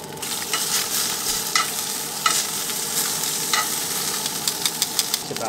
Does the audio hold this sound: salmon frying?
yes